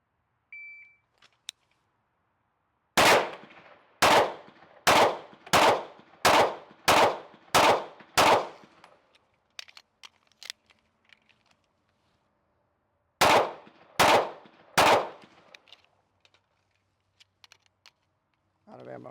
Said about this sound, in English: I'm gonna shoot 8 rounds at each of the targets back here at 30 meters